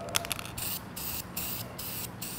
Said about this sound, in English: So I just wanna start spraying here.